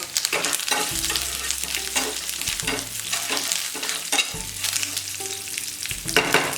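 Dried chillies and curry leaves frying with golden chana dal in hot oil, giving a loud, continuous crackling sizzle broken by repeated scraping and stirring strokes against the pan.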